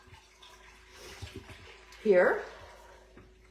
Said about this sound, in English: I'm going to pour off about a half a cup, a little over, of milk.